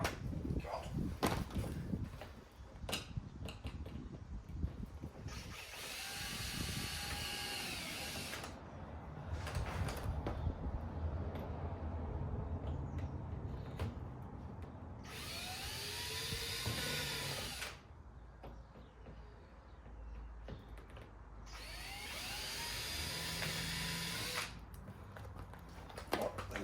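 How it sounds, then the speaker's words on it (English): Power drill bores pilot holes in a Ford Focus ST225 front bumper: three separate whining bursts of a few seconds each, spaced apart, over quieter background handling noise. "Just do all the pilot holes, and then I've got obviously a bigger drill bit to go through them all again."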